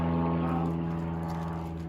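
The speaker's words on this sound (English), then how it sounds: "Sorry about the airplane, guys." A propeller airplane passes overhead a working fiberglass workshop, its loud, steady droning hum filling the whole stretch with no talking.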